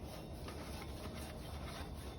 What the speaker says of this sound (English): I'm just oiling the grates a little bit.